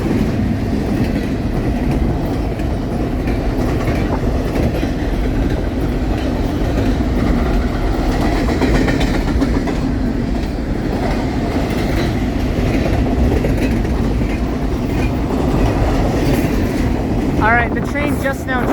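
A BNSF intermodal freight train hauled by two engines rolls past close by, a loud continuous rumble with rhythmic clickety-clack of wheels and a squeal near the end, while a voice talks faintly underneath.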